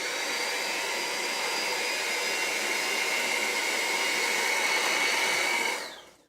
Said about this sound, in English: we're gonna go ahead and beat this for 3 minutes until you get a smooth consistency